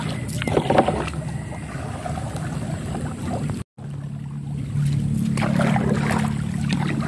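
A small jukung motorboat travels across the water with a steady low engine drone and faint water wash. The sound cuts out briefly, then returns slightly louder.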